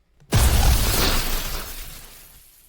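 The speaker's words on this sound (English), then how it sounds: "a violent explosion erupts before me, and Arcueid's body is smashed sideways" In the Tsukihime visual novel, a violent explosion erupts after near silence, a sharp shattering boom that hits hard at once and then decays into a long crackling, rumbling tail lasting about two seconds.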